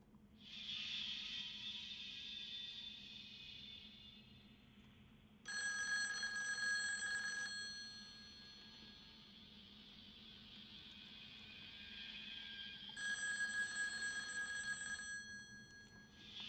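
A telephone rings in two long bursts separated by a quiet gap, a bright electronic bell tone over faint background hiss, with no talking.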